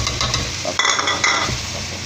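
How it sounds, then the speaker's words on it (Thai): Sweet and sour sauce poured into a hot wok for a Thai sweet and sour stir-fry, giving a steady loud sizzle with scraping stirring strokes throughout, close and without talk. "เดี๋ยวเราใส่น้ำราดเลยครับ"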